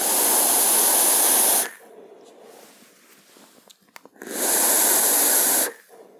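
Two long, loud hissing exhalations of dense vapor from a Steam Crave Glaz RDSA V1.1 rebuildable atomizer built for large coils and high power, with a quieter pause of faint breathing and small clicks between the two puffs.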